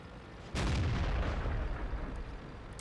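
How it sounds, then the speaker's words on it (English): Heavy artillery shell impact in World of Tanks: a sudden loud boom with a long rumbling, crackling tail that fades slowly over a couple of seconds, no voices. "And artillery steals my kill."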